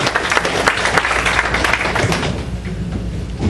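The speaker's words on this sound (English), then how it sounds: "give Shannon another big round of applause" At a comedy club, the crowd gives the host a loud round of applause, a thick, continuous wash of clapping and thumps close by that slowly eases off.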